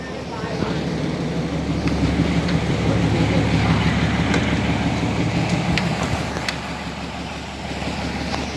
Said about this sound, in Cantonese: 美江鐵路火車